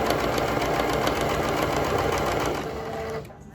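An electric sewing machine stitching a channel in fabric for a baby nest, with a fast steady whirring run that slows and stops near the end.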